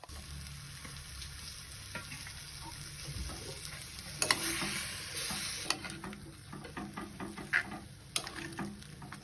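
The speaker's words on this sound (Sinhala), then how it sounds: "ඔන්න අන්තිමට අර චිකන් ටිකත් එක්ක තක්කාලි ටික ඇඩ් කරලා හොඳට කවලම් කරගන්නවා" Chicken and tomatoes for Sri Lankan devilled chicken sizzle in a pan as they are stirred, a soft, even frying hiss with sharp utensil clicks and scrapes that grow busier midway.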